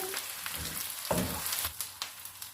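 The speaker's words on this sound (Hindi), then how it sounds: "अदरक लहसुन को हम 1 मिनट तक भून लेंगे।" Ginger garlic paste sizzles and crackles steadily in oil in a pan, with a few soft clinks of a spoon stirring through the frying.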